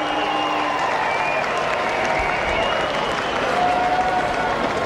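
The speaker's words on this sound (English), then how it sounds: "I think the crowd have just realised that there's something special going on out there from Brett Lee" A cricket stadium crowd applauds a fast Brett Lee delivery. The clapping and cheering form a steady, distant roar that lasts the whole time, with faint commentary underneath.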